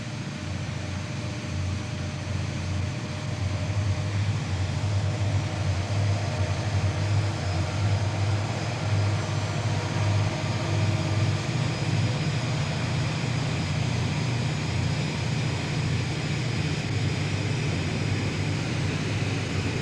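An EMD GP35 locomotive with a 2500 horsepower 567 diesel engine runs steadily, a deep continuous rumble with a strong low throb holding even throughout, fairly close and alone with no talk.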